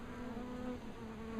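Bees buzzing steadily around an outdoor beehive with no bottom board, a continuous close drone of many insects with no voices.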